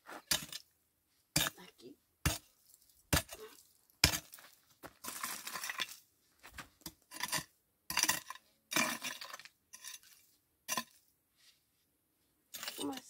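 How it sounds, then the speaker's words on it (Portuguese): Digging into the ground beneath an umbu tree, heard as a string of sharp, irregular strikes and scrapes of a tool against soil and hard bits, close by, with a brief spoken word between them. "Deixa eu começar a cavar, né?"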